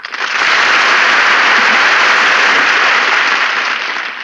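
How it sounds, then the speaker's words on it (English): A studio audience bursts into dense, loud applause that swells quickly, holds steady for several seconds of continuous clapping, then begins to taper off. "I heard the applause of the multitude"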